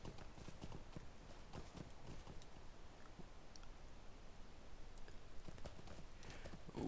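Rented horse in the Lord of the Rings Online video game trots with a steady run of crisp clip-clopping hoofbeats, fairly quiet and even throughout, with no talking.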